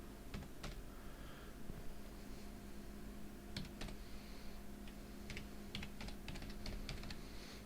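Keys on a computer keyboard tapped in quick, quiet bursts with short pauses as a password is entered, faint and close against a low background hum.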